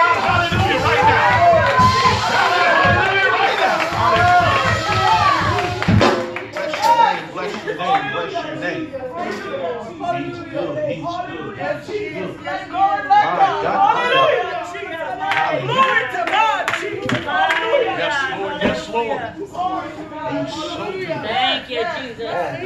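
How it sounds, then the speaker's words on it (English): A church congregation claps in rhythm and calls out at a Sunday service. Loud, steady clapping fills the first few seconds, then gives way to overlapping voices and shouting with scattered claps under the crowd noise. "Clap those hands. Shout out hallelujah right now."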